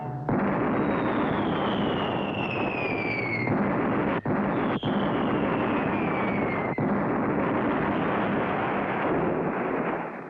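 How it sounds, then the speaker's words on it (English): A booming, rumbling barrage of cannon fire in a cartoon pirate scene, with sharp cracks and whistling streaks, dense and continuous throughout. "Clutch and Company hit with cannon fire."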